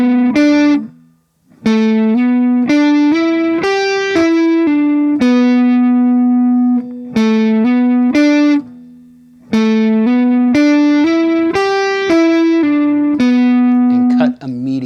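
An electric guitar with a distorted, effected tone plays a bright lead riff of quick slurred hammer-on and pull-off notes, loud and close, repeating the phrase with short pauses and ending on a held note.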